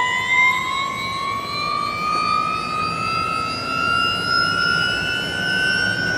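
A 1000-horsepower Porsche electric racecar accelerates down the front straight of a race track, its high electric motor whine climbing steadily in pitch over a constant road and wind roar, loud and close.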